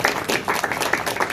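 An audience at a live art event claps in a brief burst of applause, rapid and dense, with a faint voice in the background.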